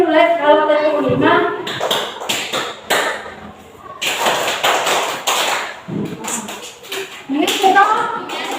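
Children in a counseling-session clapping game clap their hands in short counted groups, sharp claps arriving in bursts between spoken instructions and sung counting from a leader.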